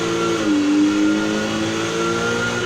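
A 1976 Volkswagen Golf GTI engine revs in Need for Speed Heat, a steady mid-pitched drone that swells slightly and wavers in pitch, loud and close with no voices over it.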